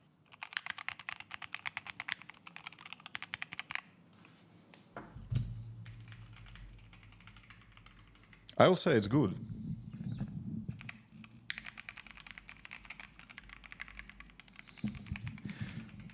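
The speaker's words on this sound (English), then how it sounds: "Not the best sounding keyboard I ever had and ever heard" Clicky keystrokes on a brand-new computer keyboard rattle in quick bursts, then pause while someone speaks briefly and a thump and rustle pass. The typing resumes in steady runs, close and moderately loud.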